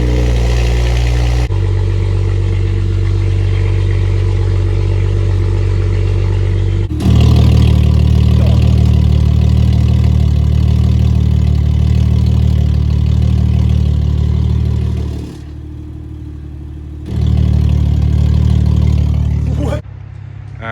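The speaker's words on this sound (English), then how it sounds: "we're gonna start the car." A BMW F87 M2 fitted with a valvetronic exhaust and freshly welded tips starts and settles into a loud, deep idle, the rumble swelling twice with blips of throttle and dropping back briefly in between.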